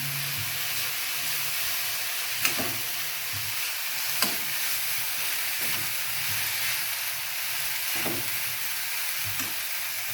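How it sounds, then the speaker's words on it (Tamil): Broad beans sauté in a pan with turmeric and rock salt, giving a steady, dense sizzle for ten seconds, broken by a few soft stirring scrapes, with no talking. "சேர்த்துட்டு நல்லா வதக்கலாம்."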